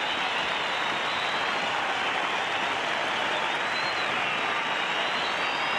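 Cricket crowd at a Pakistan versus Australia Test match applauding Greg Chappell reaching his half-century, a steady, dense wash of clapping and crowd noise that holds for the whole stretch without letting up.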